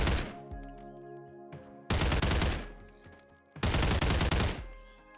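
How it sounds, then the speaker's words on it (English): An AK-47 rifle in the VR game Boneworks is loaded and fired, with mechanical clicks followed by three loud, sharp gunshot bursts, each decaying over about a second, and no voices. "The sounds of loading and shooting are meaty."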